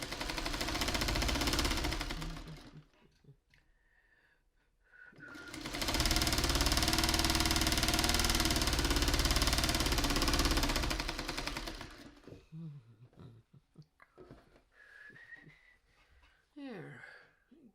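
A sewing machine stitches a Bird of Paradise quilt pattern in two long, steady, loud runs with a short pause between them, then quieter fabric handling and small knocks.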